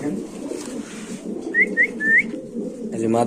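Pigeons in a loft of Pakistani racing birds coo and whistle softly, with a few short rising calls standing out over a steady murmur of low cooing.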